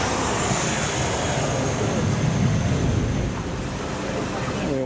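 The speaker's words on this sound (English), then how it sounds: "Plane taking off now." Bangkok Airways Airbus A319 taking off, a steady broadband jet roar heard from inside a cabin, loud and sustained, easing slightly toward the end.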